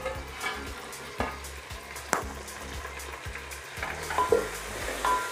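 Tomatoes for chicken palav soften in a pan, heard as a soft, steady sizzle broken by a few spoon scrapes and stirring clicks, close up and fairly quiet.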